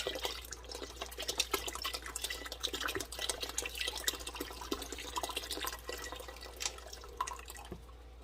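Milk pours in a thin, steady stream into a pot for champurrado, a soft continuous trickling with faint splashes, fairly quiet and uninterrupted.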